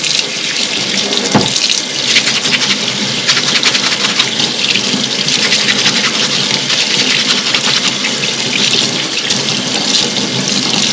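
Tap water runs steadily over a small soapy gauze filter screen from a fuel pump being rinsed in a sink, a close, loud, continuous broadband splashing gush lasting throughout with no speech.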